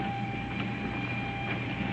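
A passenger train running steadily, with a low rumble and a constant whine from the carriage and faint rhythmic clicks of the wheels, heard from inside without speech.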